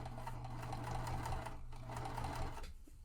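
A sewing machine is hand-cranked while sewing a tote bag, with the needle left down as the fabric turns at a corner. It makes a steady, close mechanical whir with a low hum, alone, before stopping near the end.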